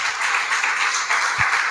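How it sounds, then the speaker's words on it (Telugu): A church congregation claps in praise during a sermon, a steady patter of many hands with occasional low thumps, moderately loud and without speech. "చప్పట్లు కూడా దేవుని స్తుతిస్తారా?"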